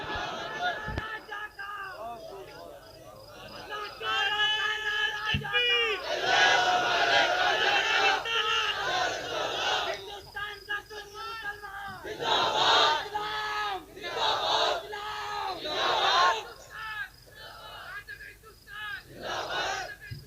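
A large crowd roars a chanted response to a religious slogan shouted at a rally, loud massed voices in repeated swelling bursts with short gaps between them, a leader's voice calling out in between.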